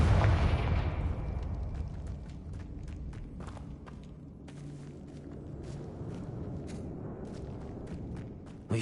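Spell explosions from Bombarda and Confringo in the video game Hogwarts Legacy, opening with a loud low blast that decays into a steady rumble scattered with crackling pops and debris clicks.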